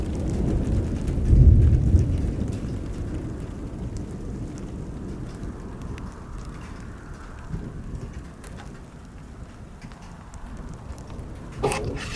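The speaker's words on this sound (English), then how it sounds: "It's raining." Rain falls steadily outdoors, opening with a low rumble of thunder, with a sharper crack or clatter near the end; no one speaks.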